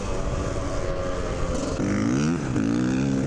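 A dirt bike engine revs on a desert ride, its tone rising and falling as the rider works the throttle, nearby and fairly loud over wind noise.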